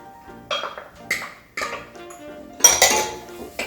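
Sharp clinks of a utensil against a pot as celery, green pepper and onions are stirred, several irregular metallic knocks and scrapes close by, with no talking.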